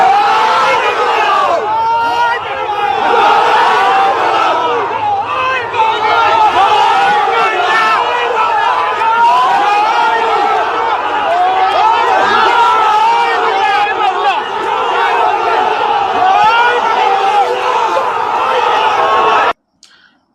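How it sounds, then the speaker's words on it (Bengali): Crowd at Tofail Ahmed's funeral prayer chants the Joy Bangla slogan, many voices loud and sustained in rhythmic shouting that runs on until an abrupt cutoff. "তোফায়েল আহমেদের জানাজায় নামাজে তারা জয় বাংলা স্লোগান দিয়েছে"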